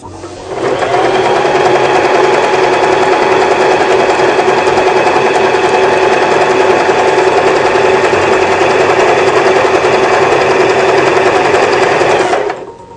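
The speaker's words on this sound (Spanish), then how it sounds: "Para coser resorte utilizaremos la puntada de tricot letra D" A Janome sewing machine runs steadily while sewing elastic with a tricot stitch, a loud continuous close whirring hum for about twelve seconds, with no speech.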